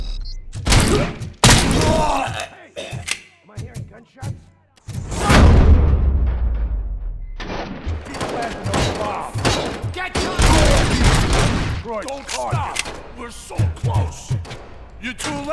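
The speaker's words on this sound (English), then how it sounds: "Am I hearing gunshots?" Repeated gunfire and heavy booming blasts in RoboCop: Rogue City game audio, loud and close, with bursts of shots and chaotic action noise throughout, voices faintly mixed in.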